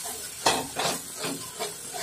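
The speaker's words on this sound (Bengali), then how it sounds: "এবার এটাকেও আমি খুব ভালোভাবে কষিয়ে নেব" Masala spice paste with a splash of water is sautéed in a pan while potol dolma is being made. Several rhythmic scraping strokes come over a soft hissing fry, close and moderate, with no talk.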